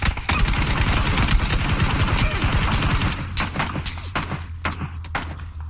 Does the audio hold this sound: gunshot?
yes